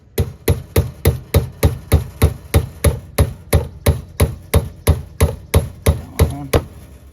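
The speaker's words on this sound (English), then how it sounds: "Here's the hammer again." A hammer repeatedly strikes a stubborn part on an RV water heater during relief valve and drain plug work, about twenty sharp metallic blows at a steady brisk rhythm, loud and close.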